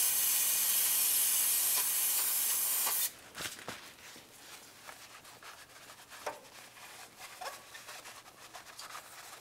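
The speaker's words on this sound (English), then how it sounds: "Now let's use some parts cleaner and clean down the area." An aerosol can of parts cleaner sprays under a 1998-2002 Lincoln Navigator in one loud, steady hiss lasting about three seconds, then cuts off, leaving quieter rubbing and wiping sounds.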